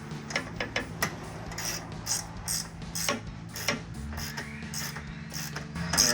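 A hand ratchet tightens radiator bolts on a Jeep Wrangler during a CSF replacement radiator install, giving quick rapid clicking strokes in short bursts with pauses between them, close and fairly quiet.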